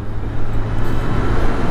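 Loud, low, steady engine rumble from a Honda CB400 Super Bol d'Or motorcycle with its stock muffler, a deep droning tone, continuous throughout and heard close up.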